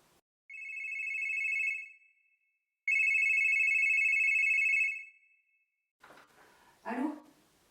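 A telephone gives two long electronic rings, each about two seconds with a short gap between them, clear and alone. A voice then answers briefly.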